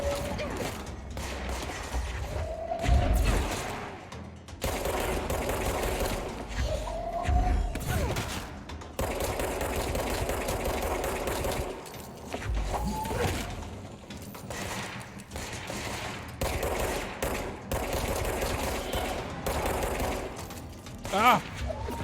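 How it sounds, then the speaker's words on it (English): Gunfire from the video game Control, dense volleys of shots and thumps running nearly continuously under a player's occasional speech. "Okay, let's just shoot."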